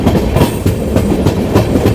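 A passenger train near New Haflong station runs along the rails with a loud, steady rumble and a rhythmic clickety-clack heard from on board.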